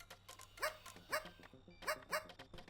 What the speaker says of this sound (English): there is a dedicated barking button